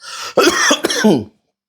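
A few harsh coughs in quick succession, close and fairly loud, ending abruptly into silence.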